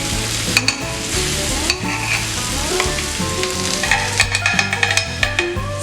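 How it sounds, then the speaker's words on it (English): Butter sizzles and spits on a smoking-hot veg sizzler plate loaded with paneer, pepper garlic rice, stir-fried vegetables and fries, a loud continuous hiss broken by sharp crackles and pops, close up with no talking. "I'm going to put the butter onto the sides to do that sizzling sound."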